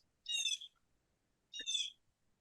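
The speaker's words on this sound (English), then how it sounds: "That bird is happy to be in the sunshine out there." Two short, bright bird calls outdoors on a sunny day, each lasting about half a second and separated by a pause, faint and at a distance with nothing else in the background.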